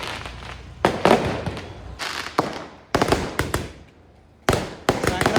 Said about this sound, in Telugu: క్రాకర్స్ మొగలైపోయినాయి